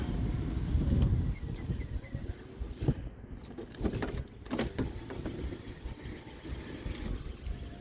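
Electric power window regulator motor on a 2004–08 Acura TSX front driver's side door, whirring faintly in several short runs with clicks and thumps between them, no talk.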